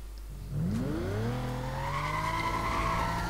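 A Lamborghini Gallardo and Porsche Cayman face off in Need for Speed: Most Wanted, with a loud, close engine surging upward in pitch as tires squeal, then holding a steady high rev.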